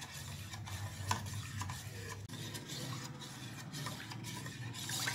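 A spoon swirls and scrapes through a thin gram flour batter in a bowl, a soft, steady sloshing stir heard up close with no talking.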